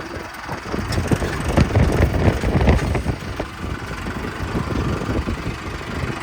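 A tractor engine runs steadily nearby, a rough mid-pitched drone with slight knocking that swells and eases, no talk.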